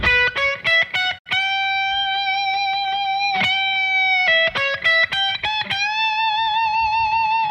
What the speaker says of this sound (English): That's not a lot of distortion, just a pinch.